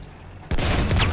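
A single loud gunshot cracks out abruptly midway in Battlefield 1, a World War I shooter, after quiet background, its blast and ringing tail filling the rest of the moment.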